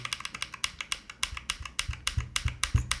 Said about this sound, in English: But I think if you're typing normally, nothing's gonna move.